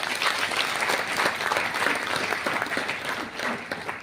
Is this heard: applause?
yes